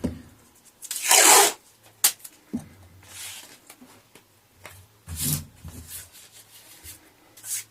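Masking tape is ripped off the roll in a sharp tearing strip, followed by softer rubbing and smoothing sounds as it masks parts of a Squier Affinity Telecaster guitar, and another short tear.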